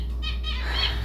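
Pet birds indoors flap their wings and give bright chirping calls in quick bursts, close by, over a steady low room hum.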